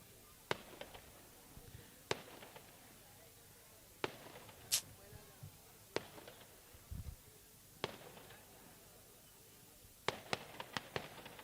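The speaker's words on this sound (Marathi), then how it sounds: "फटाक्यांची आतषबाजी" Sharp cracking bangs of fireworks go off at irregular intervals, fairly distant, celebrating a cricket semi-final win, with faint crowd murmur between the bursts.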